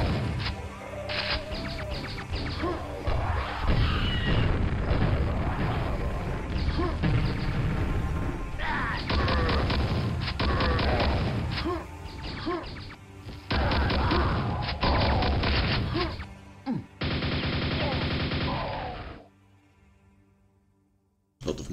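Loud, dense game audio from Quake with a grenade launcher: repeated booming blasts and mechanical clanks run almost continuously, then cut out abruptly near the end.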